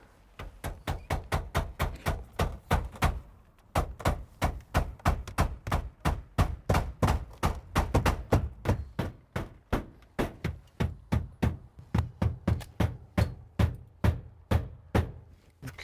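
A hammer drives copper roofing nails into a seaside Victorian cottage roof, striking in steady rapid bursts of sharp knocks with brief pauses between nails, close by and with no talk.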